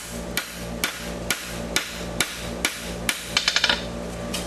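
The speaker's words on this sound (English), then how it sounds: "The hammer's going to come down." Metal hammer blows strike a hot horseshoe on an anvil at a steady beat, about one every half second, while forging heel caulks, ending in a quick burst of lighter taps; close and loud.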